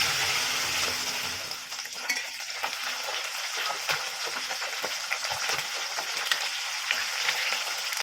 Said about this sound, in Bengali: তেল গরম হয়ে গেলে মাছগুলি ভেজে নিচ্ছি